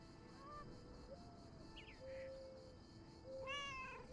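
Game cat Mortimer meows several times, short rising calls spaced across a few seconds over a steady ambient game background with birdlike chirps.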